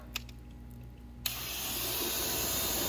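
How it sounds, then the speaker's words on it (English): A water hose bursts on after a short quiet stretch and sprays steadily to rinse soap off a car during a wash, the rushing hiss holding loud and even to the end. "Now we're rinsing the car."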